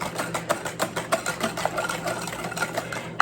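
Melted butter is whisked into lemon curd in a bowl, a fast rhythmic scraping and tapping that keeps a steady, brisk pace for a few seconds.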